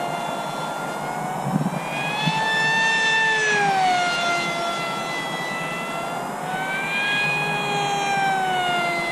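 An RMRC Strix Goblin RC plane flies aerobatics at about half throttle, its motor giving a steady whining tone that rises and falls in pitch as it passes and turns, fairly close and continuous with no talk.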